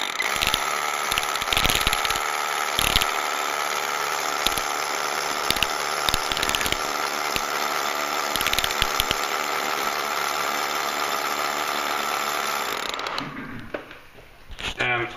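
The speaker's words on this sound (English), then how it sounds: "And we're drilling out part of it." A loud, continuous drill grinds and rattles steadily up close, drilling a sample out of a dry wall, with harsh irregular clatter throughout, then winds down near the end.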